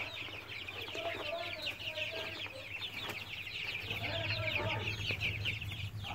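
Chickens and young chicks on a rural farm cluck and peep in a continuous busy chorus, close by and fairly steady throughout.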